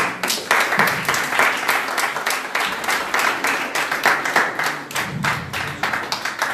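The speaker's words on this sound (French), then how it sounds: "un grand applaudissement pour le jury qui vient de finir de délibérer" An audience at a start-up competition final gives a round of applause for the jury after its deliberation, with steady, rhythmic clapping from many hands that stays fairly loud and even throughout.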